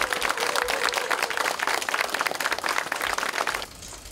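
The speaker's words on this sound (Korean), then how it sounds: "큰 박수로 시작하겠습니다" Loud, dense applause from an audience at a political party workshop, steady for several seconds before tapering off abruptly near the end.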